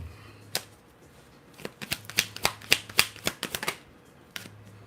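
Tarot cards being shuffled by hand, a run of crisp, close riffling snaps and flicks that bunch into a rapid burst mid-clip, with a steady low hum underneath and no talking.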